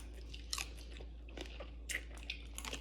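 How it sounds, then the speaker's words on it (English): Chewing on a cooked blue crab leg, close and quiet, with a few sharp crunchy bites and wet mastication spread over a few seconds, no talking. "I like chewing on the leg"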